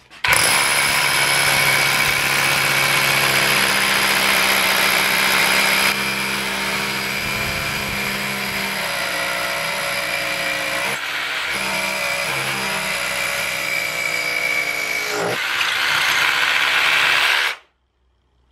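A Kaltmann Titanium cordless hammer drill bores with a somewhat dull 14 mm bit, giving a loud, continuous, rattling mechanical whir that holds steady for about seventeen seconds before cutting off.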